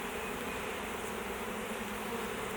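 A honeybee swarm being moved into a hive box, heard as a dense, continuous buzz of many bees close by, steady and fairly quiet with no voices.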